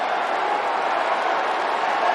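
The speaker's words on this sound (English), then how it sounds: "Listen to this crowd." A baseball stadium crowd at a Dodgers–Padres game roars in a steady, broad wash of cheering, sustained and even for the whole stretch with no distinct voices on top.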